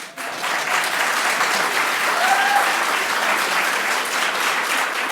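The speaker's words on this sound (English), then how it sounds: "Maybe we should hold the applause to the end." Audience at a school district governing board candidate forum breaks into steady applause, a dense, even wash of clapping that holds at a constant level for about five seconds.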